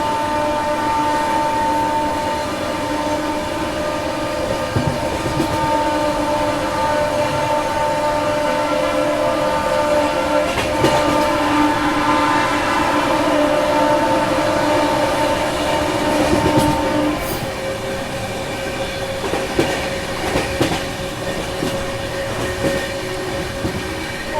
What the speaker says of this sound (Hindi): यहाँ अपनी गाड़ी नरखेड़ जंक्शन को स्किप कर रही है।